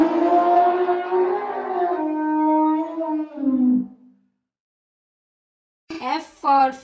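A voice imitates an elephant trumpeting with a long, wavering, howl-like call that fades out, followed after a pause by brief, sharp vocal sounds.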